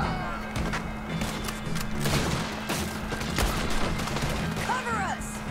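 Gunfire during a prison breakout in Red Dead Redemption 2, a rapid scatter of sharp shots and cracks over continuous background noise, with voices briefly heard.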